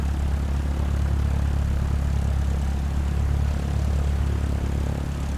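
Cessna 172 light aircraft on the airstrip at Port Allen, Kauai, with its propeller engine droning loud and steady throughout, a constant near hum without pauses or voices.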